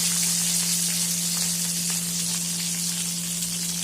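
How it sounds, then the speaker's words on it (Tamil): Garlic sizzles steadily in hot oil with curry leaves and fenugreek, a constant close crackling hiss over a low steady hum, with no voices. "இந்த பூண்டு எண்ணெயில நல்லா வதங்கட்டும்."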